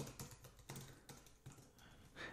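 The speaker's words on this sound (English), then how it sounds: "you could start typing text like" Keystrokes on a computer keyboard while entering text with the type tool in Photoshop, a handful of soft, separate taps spaced about every half second, quiet and close with no talking.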